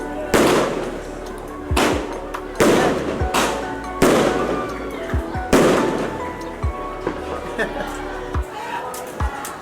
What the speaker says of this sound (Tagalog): Happy New Year, dami yung fireworks.